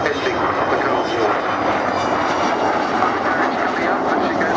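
An Avro Vulcan jet bomber flies past at its last air display at Cosford in 2015, a loud, continuous roar of jet engines with a commentator's voice speaking over it.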